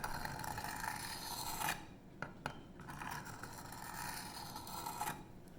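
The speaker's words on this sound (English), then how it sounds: "Literally just gently dragging the knife over the stone." A 154CM steel knife blade is dragged gently over a sharpening stone, giving soft rasping strokes in a steady back-and-forth rhythm with brief pauses, close and quiet.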